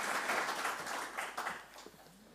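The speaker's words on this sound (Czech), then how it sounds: "Tak ještě druhý potlesk." Brief applause from a conference audience at a hydrogen forum, a dense patter of many hands clapping at moderate volume that thins and fades toward the end.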